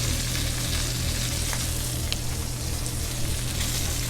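Thyme crisping in hot oil and butter beside a steak for steak frites, a steady close sizzle and crackle running evenly throughout with a few small pops.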